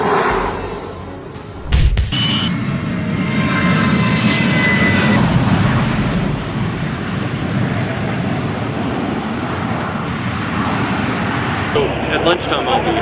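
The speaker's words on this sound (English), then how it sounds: "Here's the big plane going, hon." A big airplane flies overhead, its engine roar loud and steady for most of the time after a brief thump near the start, with excited voices briefly over it.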